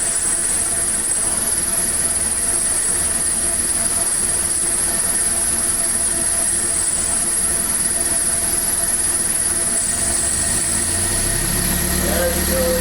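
The engine of a 1979 Triumph Spitfire runs continuously, loud and close, as a steady rumbling drone with a high hiss, burning through old gasoline, and the throttle shifts slightly near the end.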